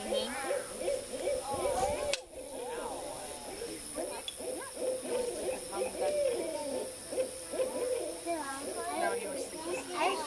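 Barred owls call back and forth with loud, wavering hoots and cackling calls, overlapping one another at close range near a campsite.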